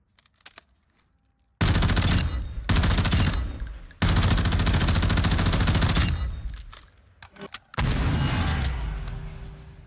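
An automatic weapon with a reactive skin fires in the Modern Warfare 2 video game firing range: three loud, rapid sustained bursts separated by short pauses, with no talk over them.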